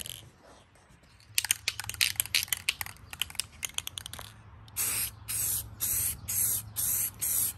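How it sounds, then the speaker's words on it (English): Self-etching primer sprayed from an aerosol can onto bare metal spots of a 1966 GTO during a brake booster upgrade, heard as a series of short, close, loud hissing bursts after some tapping and clatter. "I'm gonna put a little self-etching primer on there just so it bites into that bare metal spots."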